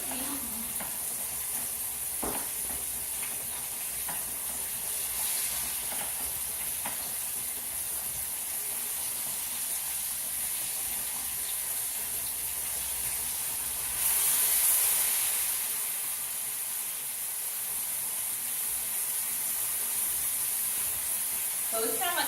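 Breaded pork chop frying in hot grease gives a steady, low hiss and crackle throughout, fairly faint and even, with a brief louder surge of sizzle partway through.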